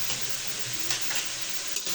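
Half-boiled food with added spices is stirred in a pan, a continuous close sizzle with soft scraping strokes of the spoon, no voices.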